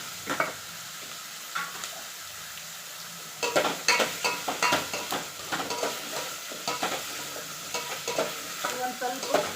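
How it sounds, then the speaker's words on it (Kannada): Chopped radish tips into a hot pan and is stir-fried for a radish sambar, a brief quiet lead-in followed by loud, close sizzling with repeated scraping stir strokes in an uneven rhythm, no voices. "ಇವಾಗ ಇವನ್ನ ರೆಡಿ ಮಾಡಿರ್ತಕ್ಕಂಥ ಮೂಲಂಗಿನ ನಾನು ಇದಕ್ಕೆ ಹಾಕ್ತೀನಿ."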